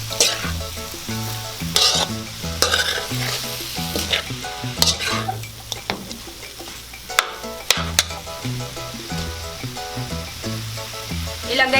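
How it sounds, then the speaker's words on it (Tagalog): Paklay with lemongrass sizzles in a hot pan while a utensil stirs it, scraping and clattering in irregular strokes over a constant frying hiss, close and fairly loud. "Yan, haluin lang po natin."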